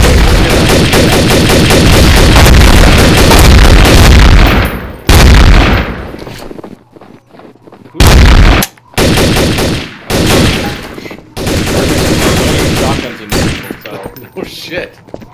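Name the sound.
gunfire in a multiplayer video game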